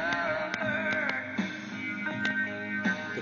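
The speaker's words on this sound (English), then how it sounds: "What you're hearing is the actual speakers in the Wallbox playing itself." Music playing through the built-in speakers of a Rock-Ola 507 wallbox jukebox, a steady band-limited tune with regular rhythmic beats and sustained tones, moderately loud and alone.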